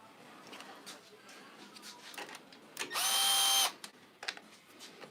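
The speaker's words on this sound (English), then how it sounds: "the pin would not come out, so I've had to drill it out" A power drill whines briefly and loudly while boring out a stuck pin on a BMW R1250GSA motorcycle, set against quieter workshop handling noises and clicks.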